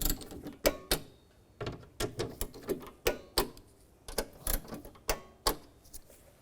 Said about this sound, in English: We can go around and torque these other bolts to 80 inch-pounds